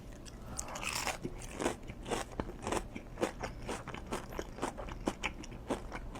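A sandwich is bitten and eaten up close, with repeated crisp crunches and wet chewing in an irregular rhythm, loud and alone without talk.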